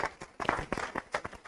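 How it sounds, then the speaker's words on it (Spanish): A small audience claps at a motivational talk, a short, fairly faint burst of uneven hand claps with no voices. "Un aplauso para ella, por favor."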